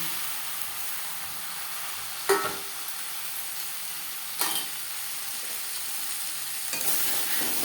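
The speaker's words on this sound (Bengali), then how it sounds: "পেঁয়াজের সাথে মাছের তেল বেশ ভালো করে মিক্স করে দেব" Bhetki fish oil sizzles with frying onions in a pan, a steady close hiss with a few distinct scraping strokes of a spatula spaced a couple of seconds apart.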